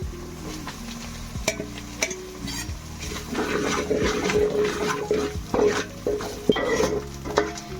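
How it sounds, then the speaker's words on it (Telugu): Coriander powder being stirred into a frying Andhra-style fish curry masala: a spoon scrapes and clinks against the pot over a steady sizzle, with sharp taps on the rim, close and fairly loud, no talking. "ఇది బాగా కలుపుకోవాలండి, కింద తగలకుండా చూసుకోవాలి."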